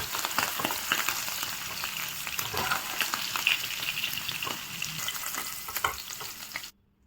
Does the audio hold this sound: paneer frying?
yes